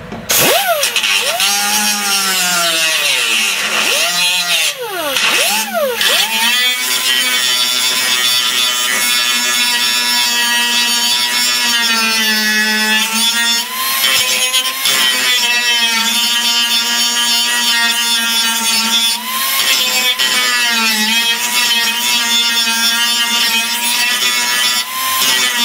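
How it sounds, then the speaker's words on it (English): A 3M grinding wheel works over plug welds inside the curves of a 1971 Charger trunk pan, giving loud, continuous metallic grinding with rising and falling pitch as the tool digs in and eases off. "This is where the 3M grinding wheel really shines"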